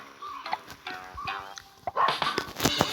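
A police dog in a video game barks in a handful of short, sharp bursts at close range over a quiet game backdrop, with more barks crowding together near the end.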